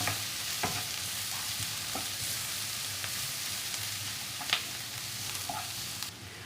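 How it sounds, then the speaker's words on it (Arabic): Sliced onion with garlic powder frying in a pan while a spoon stirs it, giving a steady close sizzle with occasional soft scrapes and clicks, no voices. "هقلب البصله مع الثوم"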